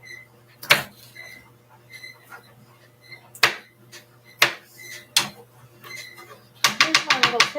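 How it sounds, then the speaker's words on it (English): A knife is tapped upside down against a board to shake off stuck vegetables for scalloped potatoes: scattered knocks, then a quick burst of five or six rapid taps at the end, close and crisp. "You turn it upside down like this and just go tap, tap, tap, tap, tap, and it falls off."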